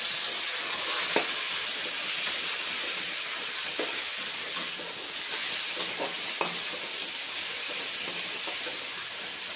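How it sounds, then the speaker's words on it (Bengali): Red amaranth leaves drop into hot oil with browned garlic, setting off a loud, steady sizzle that runs throughout, with occasional crackles and stirring clicks near the pan. "এখন লাল শাকগুলি আমি দিয়ে দিচ্ছি"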